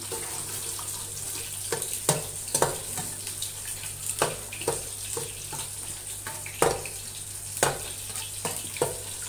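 An egg for chicken fried rice is broken up in a pan over medium flame, giving a soft, steady sizzle cut by repeated sharp clacks and scrapes of a utensil against the pan.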